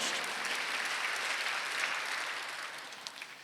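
A church congregation at a Sunday worship service gives a steady round of applause, a soft, even patter of many hands heard from a distance, with no voices over it.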